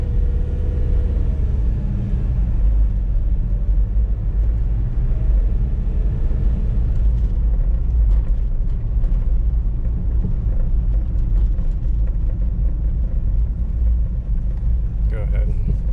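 A 1994 Ford Spectron diesel 4WD on a test drive gives a steady, loud, low cabin rumble of engine and road noise that runs unbroken for the whole stretch.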